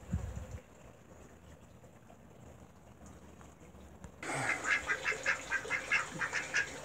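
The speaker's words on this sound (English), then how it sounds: "Oh, some ducks." A small group of ducks at a rural tree farm lets out a quick run of rhythmic quacks after a quiet stretch of faint outdoor background, fairly close and clear.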